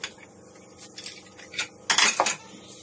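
A heavy-base pressure cooker holding dal is opened after three whistles, with a few light metallic clinks and taps of the lid, then a louder cluster of clattering metal near the end.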